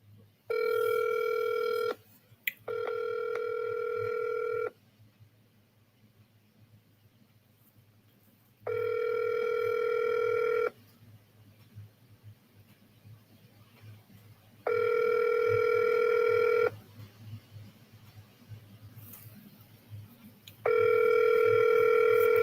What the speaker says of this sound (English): Hold on, let me call some of these people that I missed.